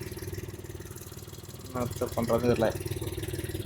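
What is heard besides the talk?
car engine running with an unusual sound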